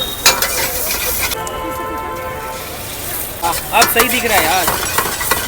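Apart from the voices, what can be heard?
stir-frying chicken fried rice with vegetables on a street stall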